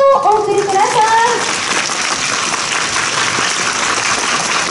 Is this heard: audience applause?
yes